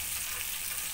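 Curry-leaf tempering sizzles steadily in hot oil while a tomato pickle is being made, a close, continuous bright hiss with no speech over it.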